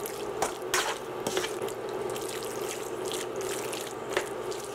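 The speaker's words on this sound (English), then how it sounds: "So I'm going to give my pork here a good stir." Pork being stirred and fried in a pan, with a faint crackling sizzle and scattered scraping and clicking of a utensil moving the meat around.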